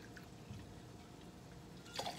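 Vodka poured from a bottle for a Sauvignon Blanc sherry martini: a quiet, steady liquid trickle with a brief brighter splash near the end, no talking.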